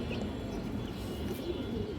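A roadline pigeon giving soft low coos close by, a faint continuous murmur with a couple of light chirps over background noise.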